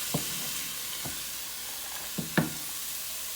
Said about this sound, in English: I'm just gonna put some in there and let them simmer a little bit so they won't be so hard.